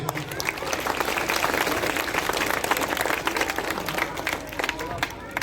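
A crowd at a school annual function bursts into steady applause, many hands clapping loudly for several seconds with a faint murmur of voices underneath.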